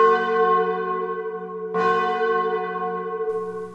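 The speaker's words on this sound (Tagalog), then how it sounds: "malakas, mabigat, at sunod-sunod na tunog ng kampana" Heavy church bells ring loud and resonant, with two clear strikes whose long humming tones hang and decay, and a fainter third strike near the end, with no voices.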